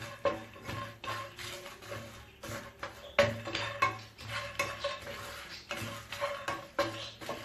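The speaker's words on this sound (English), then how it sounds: "I'm going to roast this for about another 1 minute. And I'm going to keep stirring it" Biryani masala spices being roasted and stirred in a pan, with a spoon scraping and clinking against the metal in an uneven, repeated rhythm, close and moderately loud throughout.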